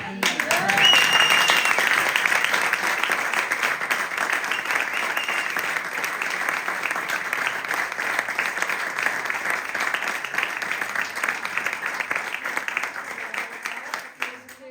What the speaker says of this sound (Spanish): Yo quería permitirme pedir un aplauso para Concha